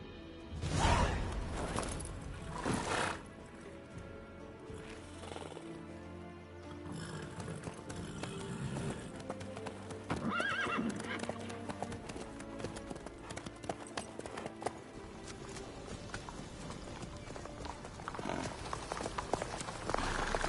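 Horse hooves clip-clop rhythmically through a PS4 video game scene, a steady trotting beat running under game music and ambient sound for the whole stretch.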